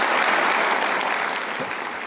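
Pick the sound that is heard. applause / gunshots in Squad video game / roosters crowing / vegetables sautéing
applause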